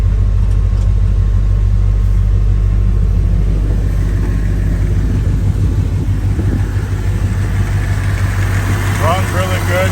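A 1958 Chevrolet 3100 pickup fitted with headers runs at a steady idle, giving a continuous low rumble with faint voices and small clicks above it.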